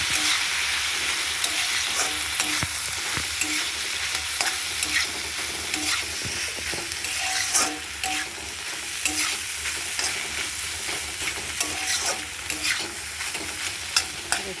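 Chow mein sizzles steadily in a pan with soy sauce, vinegar and tomato, while a utensil stirs and scrapes in frequent clattering strokes, close and clear throughout.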